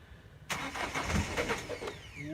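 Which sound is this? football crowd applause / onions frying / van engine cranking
van engine cranking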